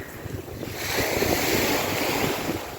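Waves wash onto the shore in a rising surge, mixed with gusty wind buffeting the microphone, loud and close.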